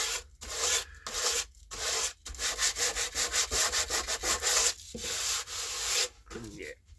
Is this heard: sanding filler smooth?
yes